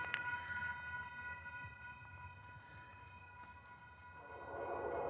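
A Union Pacific freight locomotive, UP 1989, leads a southbound intermodal train, sounding its horn as a steady multi-tone blast held over the rumble of moving rail cars, fairly distant and moderately loud throughout.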